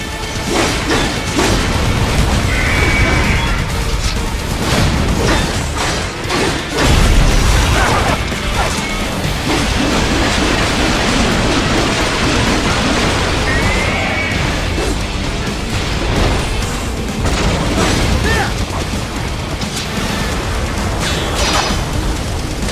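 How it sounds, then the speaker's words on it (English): Missile explosions and crashes in the Metal Gear Rising video game arrive as dense, continuous loud booms, metallic smashes and whooshes of combat, with sharp impacts scattered through a constant roar. "Catch that missile before it blows."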